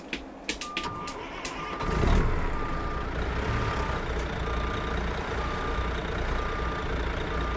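A Peterbilt-style W900 truck hauling a Great Dane trailer in American Truck Simulator, put in reverse: a steady, evenly spaced backup beep repeats over a low engine rumble after a few clicks at the start.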